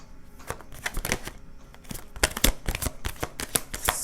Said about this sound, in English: One more shuffle, one more little ugly shuffle, and we're gone.